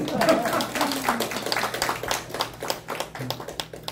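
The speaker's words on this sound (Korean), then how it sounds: "박수" Members of a church discipleship class clap, sharp irregular hand claps close by, continuing for several seconds with some talk mixed in.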